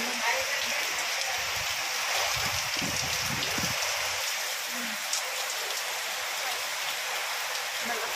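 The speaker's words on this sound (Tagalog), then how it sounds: "Lumakas na ang ulan, tapos ang hangin." Heavy typhoon rain with wind pours down in a dense, constant hiss, with a few low muffled thumps early on and no break in the downpour.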